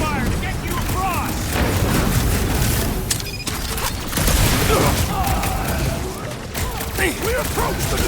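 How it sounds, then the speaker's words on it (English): Sustained cover gunfire and booming blasts in the video game Marvel's Guardians of the Galaxy, loud and continuous throughout, layered with game effects and voices talking over the shooting. "I'll lay down some cover fire to get you across!"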